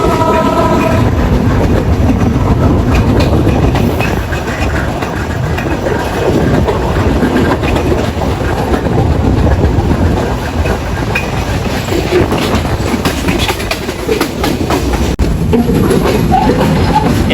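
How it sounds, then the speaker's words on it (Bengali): The Sundarban Express passenger train runs on rails between Dhaka and Khulna, its wheels rattling in a steady clickety-clack with loud, continuous rolling noise and brief horn tones, close by and alone. "এই মুহূর্তে সুন্দরবন এক্সপ্রেস ট্রেনটি অবস্থান করছে পুরাদহ জংশন রেলওয়ে স্টেশনে"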